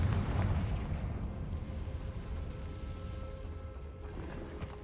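A fiery blast spell explodes in a wizarding action game, a heavy booming burst at the start that rumbles and fades over several seconds into low game ambience.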